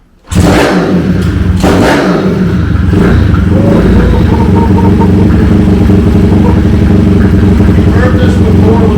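A Honda CT70 minibike fitted with a swapped-in 212cc engine runs loud and close, its steady idle broken by sharp revs, with people talking over the engine noise.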